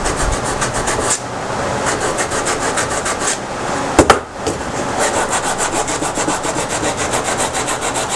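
Sandpaper rubs steadily over a wooden folding farmhouse picnic napkin holder in a close, continuous rasping rhythm, broken by a brief sharp knock about midway.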